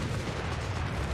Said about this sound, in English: Here we have an artillery off-map ability being called in here